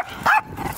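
A dog outdoors lets out a sharp, loud yip or bark at another dog, followed by fainter yelps, with no speech over it.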